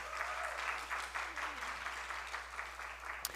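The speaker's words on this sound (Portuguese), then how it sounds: "receba as palmas do nosso plenário" Applause from an assembly plenary during a Black Consciousness Week special session, a moderate, even wash of clapping hands in a large room with a low constant hum underneath.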